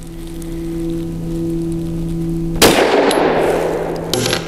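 A single sharp 9mm pistol shot from a Tisas PX9 Gen 3 Duty firing Liberty Civil Defense 50-grain +P ammunition cracks loud and close after a steady electrical hum, then decays with a second fainter clatter near the end.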